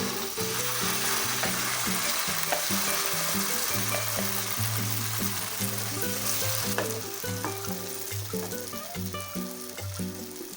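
Curry leaf paste for a traditional Kerala curry leaf pickle sizzles steadily in a pan as it is stirred, a continuous frying hiss under loud background music.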